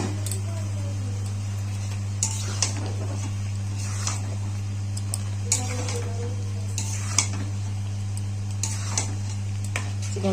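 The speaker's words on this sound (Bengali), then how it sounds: "চিকেনটা আমি এবার কষিয়ে নেবো।" Marinated chicken with fried tomato is stirred in a pan for chicken kosha, with a steady low sizzle and repeated sharp utensil scrapes and taps against the pan, close and alone.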